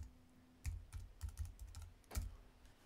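A computer keyboard is tapped to enter a password: a handful of quiet, close keystrokes in an uneven rhythm, alone in a near-silent room.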